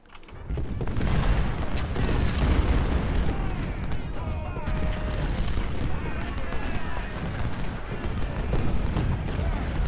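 Cannons fire on a fort in Ultimate General: Civil War, a strategy game, giving a steady low rumble of artillery booms and battle noise under continuous talking.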